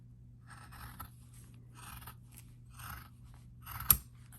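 Scissors snip through craft material while making a DIY Christmas gnome, with a few soft, close cuts spread across the moment and one sharper snip near the end; otherwise quiet.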